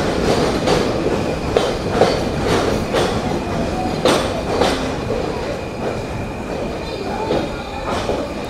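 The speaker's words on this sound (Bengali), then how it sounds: "নির্ধারিত সময়ে আমরা প্রবেশ করছি আমাদের আজকের যাত্রার দ্বিতীয় যাত্রাবিরতি স্টেশন যশোর জেলার যশোর জাংশন" A passenger train pulls into Jessore Junction railway station, its wheels giving loud, close rhythmic clicks over rail joints above a steady rumble.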